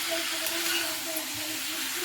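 Mixed vegetables fry in a pan on a home stove, giving a steady, close sizzle and hiss that holds evenly throughout, with faint tonal kitchen hum beneath and no voices.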